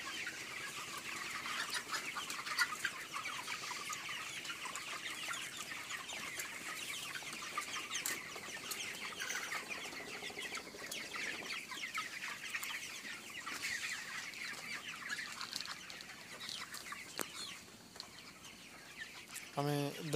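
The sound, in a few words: chickens clucking in poultry farm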